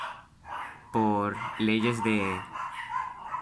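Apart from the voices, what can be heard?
dogs barking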